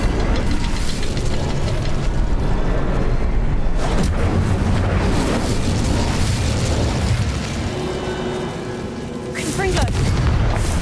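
Incendio fire spell cast in Hogwarts Legacy erupts in loud booming bursts and roaring flame, dense and continuous, with a brief lull before another sharp burst near the end.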